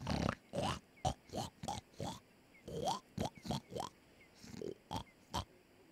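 Wild pigs in the hunting game Way of the Hunter make close, repeated grunts and oinks in an uneven rhythm of short bursts with quiet gaps between them.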